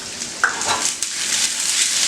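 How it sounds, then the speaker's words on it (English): Zucchini sautés in a pan with a soft, steady sizzle, punctuated by a few faint clinks and scrapes of stirring, heard close and alone without talking. "the zucchini's starting to saute. So the minute it starts to sizzle"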